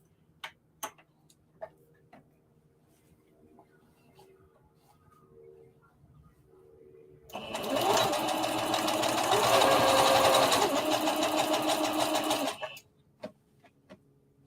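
A sewing machine stitches the facing of a fabric circle dress in one steady run of about five seconds, framed by soft scattered clicks and handling noises before and after.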